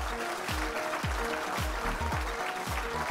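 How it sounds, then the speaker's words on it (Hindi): Audience applause at a tech gadget awards ceremony, a moderate wash of clapping running throughout, with rhythmic low thumps of event music pulsing beneath it. "एक बार जोरदार तालियां हो जाएं।"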